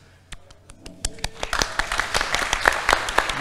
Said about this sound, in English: our applause to them, they totally deserve it